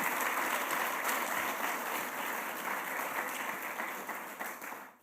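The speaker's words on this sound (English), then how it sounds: "Let's give Ilya another great round of applause." Audience at a symposium clapping after a talk, dense sustained applause from many hands that gradually thins and fades out at the end.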